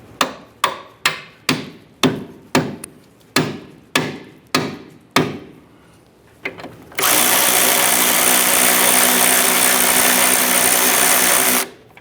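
Hammer tapping a bolt through the rear lower forward control arm of a 2005-2010 Chrysler 300: about ten sharp, evenly spaced metallic strikes up close, then a loud steady hiss-like power tool run for several seconds.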